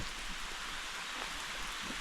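Steady, soft hiss of light rain falling, an even wash of patter with no voices.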